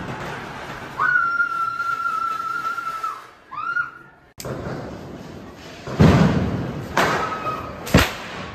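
Diwali firecracker bombs go off outdoors in Delhi: a long whistle first, then two loud, close thuds a couple of seconds apart against background noise.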